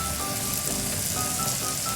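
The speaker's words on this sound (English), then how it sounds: "you can hear that really nice sizzle of the bacon" Small pieces of bacon sizzle steadily in a hot pan, a dense, even crackling hiss that stays loud and close throughout.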